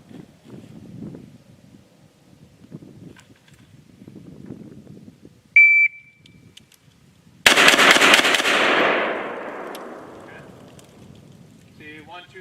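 A Korean-made gun fires a rapid string of shots that blur into one loud, sharp burst with a long fading echo. A short electronic tone comes first, after quiet shuffling, and there is no speech.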